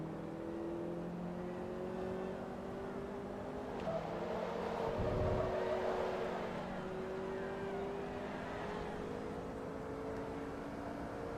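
An original-style Fiat 500 racing in Forza Motorsport 2 at Laguna Seca, its engine droning steadily with pitch rising through the gears and one brief shift dip, heard alone and fairly loud.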